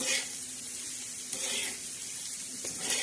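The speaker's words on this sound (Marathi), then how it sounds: "असं हलवत राहायचा म्हणजे कांद्याला चांगला तडका बसतो" Onion frying in a pan with salt, sizzling steadily and close, with occasional scraping stirs throughout.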